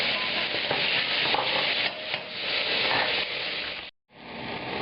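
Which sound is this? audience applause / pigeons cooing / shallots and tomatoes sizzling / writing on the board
shallots and tomatoes sizzling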